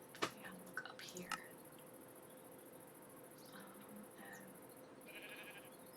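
A sheep in the Minecraft video game bleats a few short times near the start, over a quiet, steady cricket-like hum of the game world.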